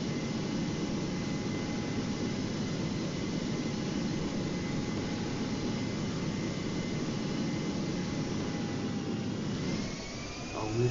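Airbus A318 coming in to land in GeoFS, a continuous loud jet engine roar with a steady whine and airflow rush that slackens briefly near the end.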